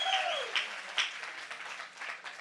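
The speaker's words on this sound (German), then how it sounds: "Und der 10-Punkte-Applaus." An audience at a science slam applauds steadily for a couple of seconds, a dense wash of clapping with a whistle or cheer at the start.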